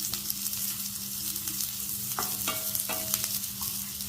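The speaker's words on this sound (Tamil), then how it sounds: "இப்போ மாங்காய் கொஞ்சம் வதங்கணும்." Mango pieces sautéing in oil for chutney, a steady close sizzle with a few clinking scrapes of a spoon stirring the pan.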